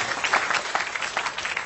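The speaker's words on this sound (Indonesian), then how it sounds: "tepuk tangan untuk Mas Herman dulu" At a Mocopat Syafaat religious gathering with Cak Nun, an audience gives Mas Herman a short burst of dense, crowd-wide applause.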